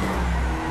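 Nissan GT-R engine in GTA 5 revving steadily at a high pitch for a brief moment, loud and close with a constant drone and no talk over it.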